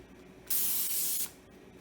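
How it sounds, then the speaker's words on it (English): Vegetable pan spray hisses from an aerosol can into a pan on a gas stove, one steady burst of under a second, close and loud against a quiet room. "If you're working with the gas stove, make sure you spray it inside the pan"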